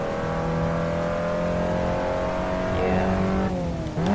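An Abarth 500 on slick tyres races through a chicane at the Nürburgring in the Assetto Corsa video game, its engine droning steadily with rising and falling revs as it slides sideways, close and loud with no talk.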